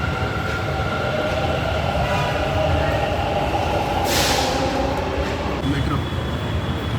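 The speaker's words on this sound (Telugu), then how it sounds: "మేము మెట్రో స్టేషన్ కాడ తీసుకొని పైనకు వచ్చేసి స్టేషన్లో నిల్చున్నాము." A Bengaluru metro train runs past a station platform with a steady loud rumble and whine, a bright hiss burst midway and a tone rising near the end.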